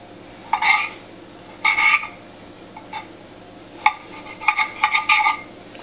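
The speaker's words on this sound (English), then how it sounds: "So I already hear the oil heating up" Cooking oil heats in a pan for Puerto Rican arroz con gandules, letting out several short, sharp crackling spits in irregular clusters. The pops are close and fairly loud, with quiet gaps between them and no talking.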